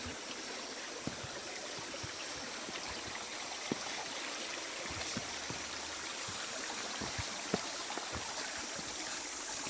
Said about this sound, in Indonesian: ngelewatin banyak sungai kecil